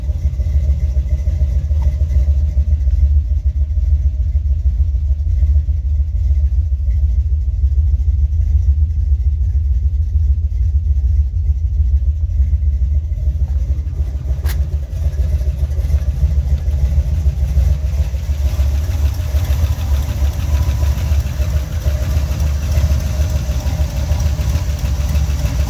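A Buick 455 Stage-1 V8 in a Regal-T, with a bad header exhaust leak, idles steadily for the whole stretch with a deep, loud, continuous rumble and a faint ticking beat, and no talking.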